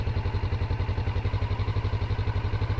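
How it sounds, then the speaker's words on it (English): A motorbike engine runs close by with a steady, fast low-pitched thumping rhythm, idling evenly throughout. "that is the sweet sound of the motorbike."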